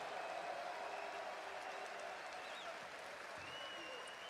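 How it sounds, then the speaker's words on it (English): Crowd applause at an esports grand finals watch party for OpTic Texas, a steady roar of clapping and cheering that holds for several seconds, with faint voices mixed in. "Un tonnerre d'applaudissements, s'il vous plaît."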